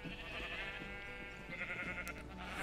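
Several sheep bleating in quick succession in the Minecraft video game, layered game bleats over a steady low background.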